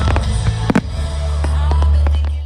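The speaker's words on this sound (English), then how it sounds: "we went out with a couple of friends to see the fireworks for Fawkes Night." Guy Fawkes Night fireworks in London, a string of sharp bangs and crackles close by, followed by a louder burst and scattered pops over a steady low rumble.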